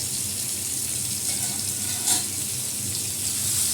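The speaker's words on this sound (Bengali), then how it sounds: "কালো জিরা ফোড়ন দিয়ে আলু আর টমেটোটা একটু ভেজে নিই" Potato and tomato fry with a nigella seed tempering, a loud continuous hiss that stays even throughout with a brief brighter spatter midway, no speech heard.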